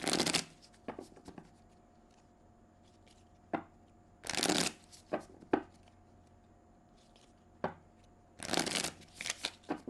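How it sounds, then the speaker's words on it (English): Tarot cards riffle shuffled by hand in several quick bursts, each a close, crisp flutter with soft tapping and squaring of the deck between them. "So let me shuffle. There's a few riffles here."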